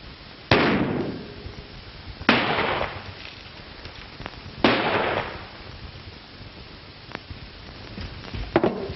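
Gunshots in an old black-and-white western, three sharp loud cracks spaced a couple of seconds apart, each with a ringing tail, followed by a few fainter pops and a burst near the end.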